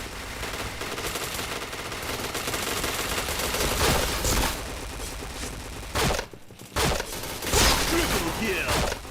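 Rapid automatic gunfire crackles in the video game Point Blank, dense bursts of shots running through most of the stretch with brief pauses, while a voice speaks over it.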